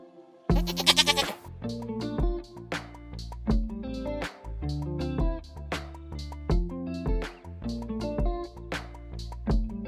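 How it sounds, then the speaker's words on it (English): A goat bleats in a long, loud, wavering cry against a busy, continuous musical background of repeated tonal notes. "Goat."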